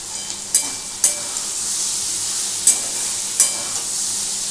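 Green chillies are stirred through a frying mixture for an aloo paneer rasa, a steady hot sizzle with a few sharp utensil scrapes standing out at irregular moments, close and clear with no talking.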